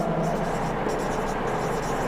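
Marker or chalk strokes on a board while a physics statement is written out, a steady scratchy scraping that continues without a break over a low background hum.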